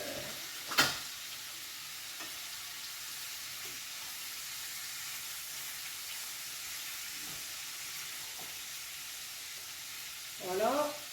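Bacon lardons and onions fry in a pan while being stirred for a beef and carrot stew, giving a steady, close sizzling hiss throughout, with a sharp stirring scrape near the start and another at the end.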